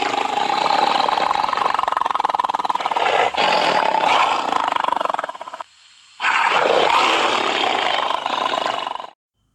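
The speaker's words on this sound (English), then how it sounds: "Now, listen to these roaring tigers." Tigers roaring: a loud, sustained, rough growling roar that fills the space, breaks off briefly into near-silence, then surges back just as forcefully before stopping abruptly.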